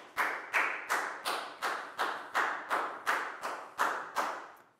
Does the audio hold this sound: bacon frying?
no